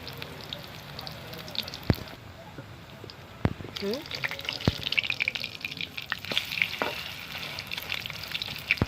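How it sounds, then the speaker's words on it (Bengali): Egg-coated Maggi pakora frying one at a time in a kadai, a steady crackling sizzle of hot oil with scattered pops and clicks, fairly close, with some talk over it. "আমি একটা একটা করেই ভেজে নেব"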